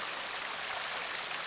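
Small waterfall in the Karijini outback, a steady, even rush of falling water with a broad hiss that stays constant from start to finish, fairly close and alone with no voices.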